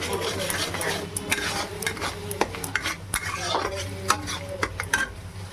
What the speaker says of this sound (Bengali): আমি মশলা দিয়ে নিলাম আদা রসুনের গন্ধটা ছেড়ে যাওয়া পর্যন্ত আমরা কিছুক্ষণের জন্য অপেক্ষা করব